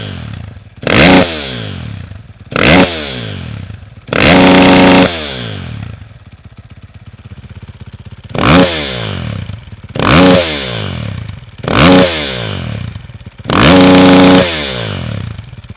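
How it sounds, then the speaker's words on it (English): A 2019 KTM 450 SXF fitted with a Yoshimura RS-4 full exhaust system revs hard in about seven loud, close bursts, each rising and falling, separated by short stretches of idle. "testing the Yoshimura RS-4 exhaust system on the 2019 KTM 450 SXF"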